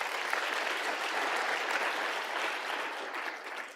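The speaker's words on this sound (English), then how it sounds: "if you just give a round of applause to Greenstone for sponsoring our lunch" Steady, dense applause from a seated audience at a bulk freight industry conference, thanking a lunch sponsor, an even roomful of clapping lasting a few seconds at moderate volume.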